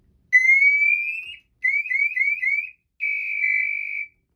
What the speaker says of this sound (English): Our pass alarm went off with the motion, and then we're also going to manually with the front button on the Sentinel as well.